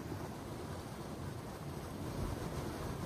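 Continuous rush of water flowing at Helen Hunt Falls, a broad, even hiss heard at night at a moderate distance without pause.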